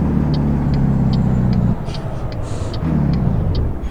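A heavy truck in American Truck Simulator brakes hard, giving a loud, steady low engine and tyre rumble with a dip near the middle before the drone resumes, while faint periodic ticks sound above it.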